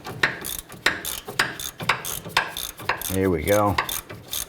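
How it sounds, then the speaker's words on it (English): A swivel head ratchet loosens a bolt on a Honda Pilot's front suspension, giving rapid rhythmic clicking strokes in short bursts, close and clear, with a brief spoken phrase near the end. "So we switched over to a swivel head ratchet."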